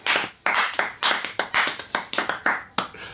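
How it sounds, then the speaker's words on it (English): A few diners clap for the chef at a meal of Japanese wagyu beef, an uneven scatter of close, sharp hand claps that repeats steadily and then thins out, with no talking. "So round of applause for the chef."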